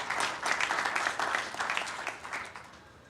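Conference audience applause at a hacker event, a brief round of scattered clapping from a crowd, moderately distant and fading out over a few seconds.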